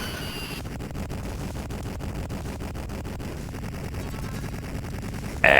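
Rapid, rumbling explosions and blasts pound steadily from the arcade video game Total Carnage, loud and continuous, ending with a sharp brighter burst.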